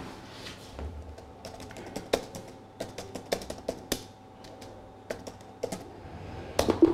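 Typing on a computer keyboard produces sparse, close clicks and sharper single key strikes in an uneven rhythm, with a small cluster of louder presses near the end and no talking.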